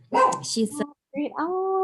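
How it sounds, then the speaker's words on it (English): A pet dog named Frida lets out a couple of short, close barks and yips, with someone speaking just before. "I apologize for my dog"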